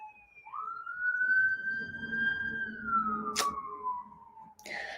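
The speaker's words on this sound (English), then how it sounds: "there was a siren that went by" An emergency siren wails in one long, steady, slowly falling tone as a vehicle passes nearby, with traffic rumble underneath.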